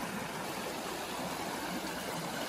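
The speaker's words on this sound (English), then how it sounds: "this is a pretty shallow creek" A shallow creek in Oregon at high winter water flows steadily, a soft continuous rushing babble, fairly quiet and even throughout with no voices.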